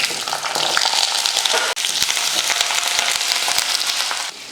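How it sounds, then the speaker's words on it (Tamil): Small onions, garlic cloves and curry leaves fry in oil, making a loud, dense, continuous sizzle close by, dotted with faint stirring taps. "ஒரு 20 போல் சின்ன வெங்காயம், ஒரு 4-5 பல் பூண்டு, கொஞ்சம் கருவேப்பிலை இதை சேர்த்துடலாம்."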